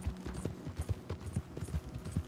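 Horse hooves clip-clopping in the game Red Dead Redemption 2, a steady rhythmic series of soft hoof beats at a trot, fairly quiet, with no talking over them.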